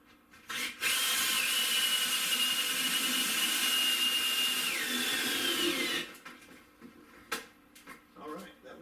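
A power drill fitted with a collar bit drives screws into wood during a laundry closet to pantry conversion in a mobile home, a loud steady whir running about five seconds with a pitch shift near the end, followed by brief handling clatter.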